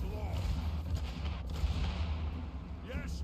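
Artillery bombards in the video game Total War: Warhammer as a dwarf army attacks, a dense, continuous low rumble of booming blasts and distant explosions layered under a busy battle din.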